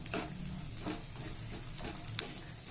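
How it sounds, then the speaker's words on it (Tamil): Almonds, cashews and raisins fry in ghee with a soft, steady sizzle and faint stirring scrapes, close but quiet, for a few seconds. "பருப்பு நல்லா வறுபட்டுருச்சு. இப்ப நம்ம இந்த பழத்தை சேர்த்துக்கலாம்."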